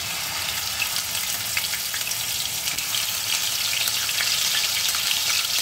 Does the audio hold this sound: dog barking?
no